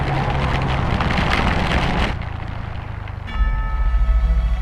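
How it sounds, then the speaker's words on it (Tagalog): Heavy rain pounds a moving vehicle on the road to Bicol, a dense loud hiss of rain and road noise that drops suddenly, then gives way to a low rumbling engine drone. "Inabutan na kami ng sobrang lakas na ulan."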